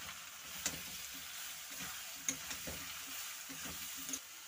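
Soya chunks fry with potatoes in a pan, giving a faint, steady sizzle broken by a few sharp stirring scrapes and clicks, with no talk.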